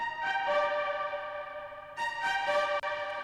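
Spiccato strings from the free BBC Symphony Orchestra plugin play two soft, sustained, bright chords, the second entering after a short break, fairly quiet with no voices over them.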